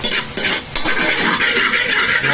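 Garlic sizzling in a hot pan at the start of a spare ribs caldereta, a close, steady hiss with a few scrapes and clinks from stirring.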